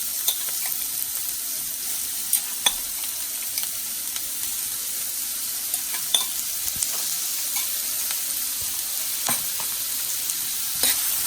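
Finely diced onion sautés over a high flame for a biryani gravy, a constant bright hiss punctuated by scattered sharp ticks and clicks from stirring against the pan.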